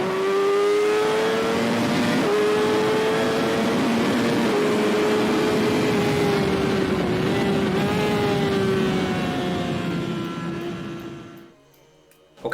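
Kawasaki ZX6R motorcycle at speed on a race track, its high-revving engine whining loudly and steadily with gear changes and pitch shifts, then easing off near the end.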